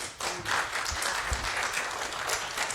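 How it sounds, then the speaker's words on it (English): A room of listeners applauds a speaker at a talk on reconstructing a Revolutionary War figure's voice, even close-sounding clapping that carries steadily through the moment. "One more round of applause for Antoine, please."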